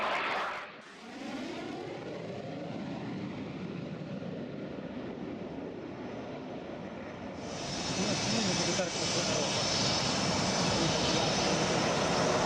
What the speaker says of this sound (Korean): 핀란드 공군은 훈련 중 고속도로 위에서도 전투기를 완벽하게 운용해냅니다.